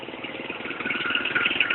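Motorcycle engine running with no engine oil after a Lupromax additive treatment, a steady mid-pitched idle with an even, unbroken hum that grows slightly louder toward the end.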